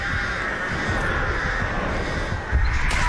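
Crows caw from the Artist's birds in the video game Dead by Daylight, a dense stretch of rough calls under steady game ambience, followed by a louder burst near the end.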